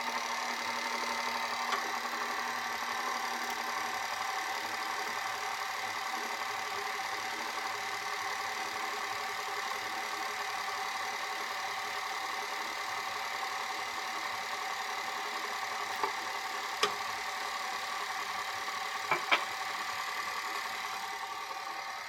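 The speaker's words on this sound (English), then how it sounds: "my mixer is on low" An electric stand mixer runs steadily on low speed, beating butter, sugar, vanilla and eggs for chocolate chip cookie dough, a continuous even motor hum throughout with a few faint clicks near the end.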